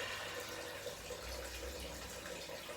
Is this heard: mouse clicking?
no